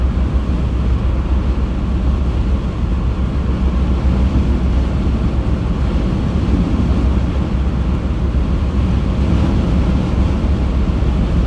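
Strong wind roars steadily by a lake during a lake-effect snowstorm in southwest Michigan, a loud, constant low rumble buffeting the microphone with no talk.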